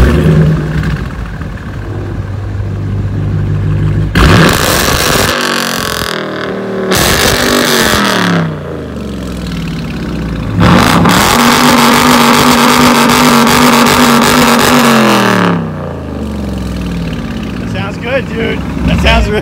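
A 5.7 engine with a resonator exhaust revs hard in a series of loud bursts, rising and falling between short idle stretches, close by and dominating the scene.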